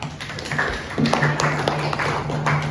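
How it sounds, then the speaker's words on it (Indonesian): Students in a classroom clap for all the groups, a steady close patter of many hands with a faint hum underneath and no clear talk. "tepuk tangan untuk semua kelompok dulu"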